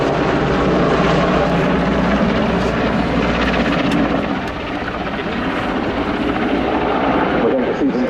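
A Portuguese Air Force Leonardo AW101 Merlin helicopter flies a display at RIAT 2025, its loud, continuous rotor and turbine roar dominating throughout with slight swells as it climbs and dives.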